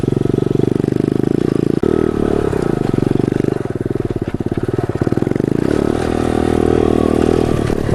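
A pit bike engine runs loud and close throughout while being ridden through the city, with a steady buzzing drone, brief dips and pulsing revs, and some rattling clatter.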